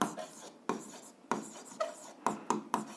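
A pen scratches across paper in short, separate strokes during an algebra lesson, as an equation's graph is written out, the strokes close and quiet with pauses between them.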